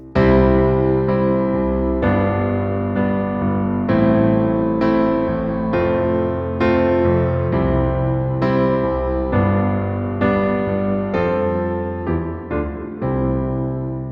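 Piano plays a song using simple approximated chords, block chords struck one after another in an even pulse, full and resonant, with no talking.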